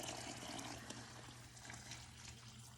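Filtered water pouring steadily into a cold brew carafe, a continuous close splashing trickle that fills the container without pause.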